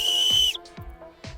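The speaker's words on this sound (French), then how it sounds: "c'est un sifflet avec une boussole" Small multifunction whistle with a built-in compass gives one sharp, high, steady blast of about half a second, followed by a few quiet clicks and handling knocks.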